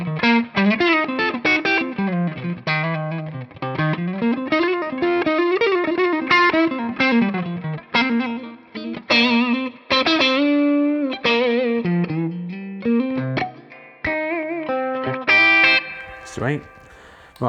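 Electric guitar through a Tube Screamer overdrive plays a melodic line with bends and sustained notes, gritty and saturated, loud and close.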